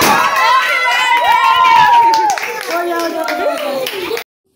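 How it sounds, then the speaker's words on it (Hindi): A group claps steadily at a birthday celebration while voices sing loudly over the applause, which fades slightly toward the end before stopping abruptly. "चलो एक बार ताली बजा दो।"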